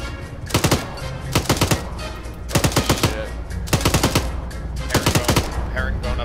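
Medium machine gun firing in Arma 3, loud repeated bursts of about three to five rapid shots each, roughly one burst per second, over steady background rumble.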